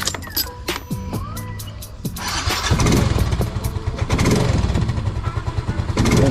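A Mio Soul I 125 motorcycle, just fitted with a new spark plug, cranks with clicks and a rattle and then starts. It settles into a steady, close idle with a rapid putter.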